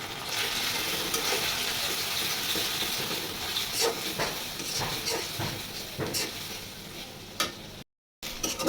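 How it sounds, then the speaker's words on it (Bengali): Onion with ginger garlic paste frying in a pan for duck curry, a steady close sizzle and hiss with repeated stirring scrapes throughout, cut by a brief gap of silence near the end. "আদা রসুনের পেঁয়াজটা সুন্দরভাবে ভেজে নিতে হবে"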